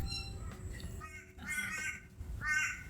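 Crows caw outdoors in a lush, jungle-like natural setting, several harsh calls rising above steady background noise in short bursts.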